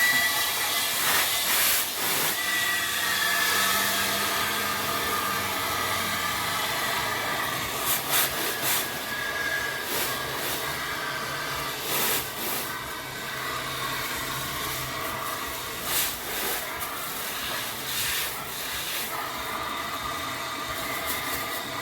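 Compressed air or flushing solvent hisses steadily through an Opel Zafira's air conditioning lines, with the dryer filter removed to purge old oil. Broad, fairly loud hissing runs throughout, broken by repeated short, sharper bursts.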